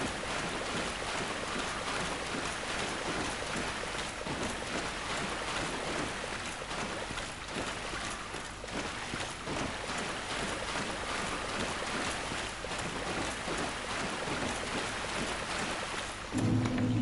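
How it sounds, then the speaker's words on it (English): Splashing water in the video game Dark Souls Remastered, a dense continuous sloshing and rushing wash at steady moderate loudness, with no voices. "The lovely sound of splashing water."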